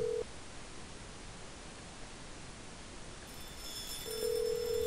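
A phone call rings out in the Hello Neighbor stealth horror game, with a steady tone that starts and stops over a constant hiss of static, fairly loud and with no one talking.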